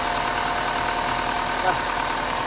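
A Hyundai Starex CVX diesel engine idles with a low-power fault and blinking check engine light, giving a steady, even broadband drone with a faint knock throughout, heard up close with no break in level.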